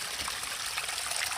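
Spring water trickling straight out of rocks on an Appalachian mountainside at dawn, a steady close splashing and dribbling with no voices.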